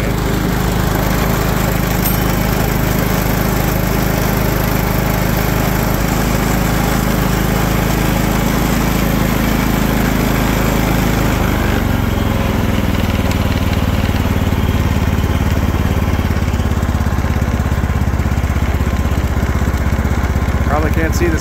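A John Deere LT160 automatic riding lawn tractor engine runs steadily throughout, a low droning hum with a shift in pitch partway through, close and continuous.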